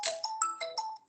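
A phone ringtone plays alone during a lecture class, a bright electronic melody of several short rising and falling notes over about a second.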